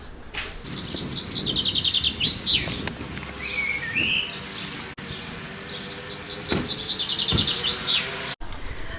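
Birdsong fills an exhibit on threatened birds: repeated bright chirping phrases and tweets rise over a soft ambient hum, with a few whistles and faint coo-like calls, moderately quiet and without talk.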